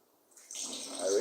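A short rush of tap water rinsing chemistry glassware during a volumetric analysis practical, rising from quiet to a steady splash within about a second.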